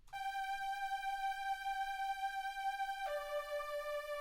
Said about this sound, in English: for the chorus, we have these organs